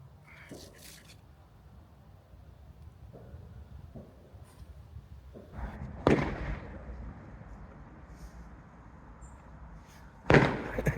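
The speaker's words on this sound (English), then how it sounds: "fireworks going off in background and it just doesn't bother her in the slightest" Fireworks go off in the distance outdoors near woods, mostly faint pops under a low rumbling background, with two louder sharp bangs standing out later on.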